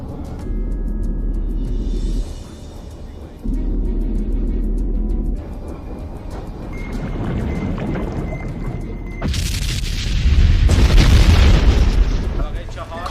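Film scene aboard a submarine: a torpedo explodes against an underwater canyon wall, heavy low booms and rumbling blasts that swell louder toward the end, mixed with dramatic score and brief voices.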